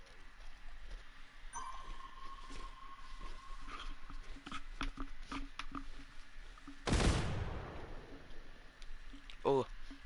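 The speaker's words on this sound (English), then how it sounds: "those gunshots sounded close" Sharp gunshot in a video game rings out nearby, one loud broadband crack around the middle followed by a shorter burst near the end, over a steady background of game ambience and soft talk.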